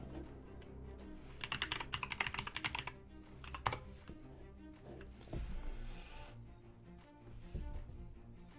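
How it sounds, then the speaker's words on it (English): Typing on a computer keyboard at a desk: a quick burst of clicking keystrokes, then scattered single taps and a few heavier key presses, fairly close and alone without talk. "I was typing in Amazon"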